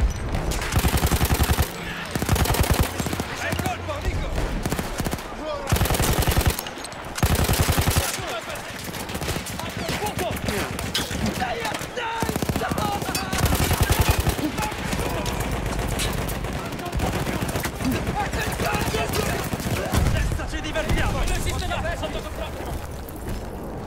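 Battlefield 1 machine gun fire during an Italian campaign battle against Austro-Hungarian troops, loud sustained bursts with dense gunfire filling the whole stretch, with shouting voices mixed in.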